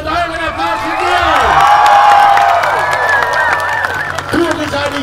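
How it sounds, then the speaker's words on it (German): A big crowd at a medieval knight tournament show cheers and applauds loudly, a sustained roar of shouting and clapping that swells and then eases, with children's shrieks mixed in. "Holt euch euren Jubel und euren Applaus mit mir."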